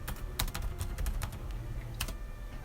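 Quick clattering keystrokes on a computer keyboard as a stock ticker is entered, close and fairly loud, in short irregular bursts with no voices.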